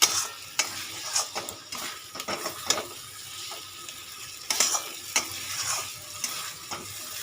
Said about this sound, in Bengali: পটলটা দিয়ে একটু কষিয়ে নেব